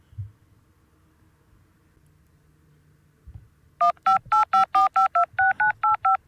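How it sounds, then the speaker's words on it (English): Telephone keypad dialing tones on a live-streamed call: a rapid series of about eleven loud, evenly spaced DTMF beeps following a few seconds of quiet hum, with no talking over them. "Lakeisha, I might have to give her a phone call"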